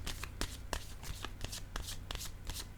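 Playing cards are shuffled, handled and laid down close by, making quick papery riffles and soft slaps in an irregular rhythm.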